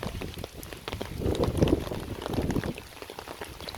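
Heavy rain suddenly pours down on a bypass road, a dense, steady hiss of drops that swells louder midway and stays continuous, with no voices.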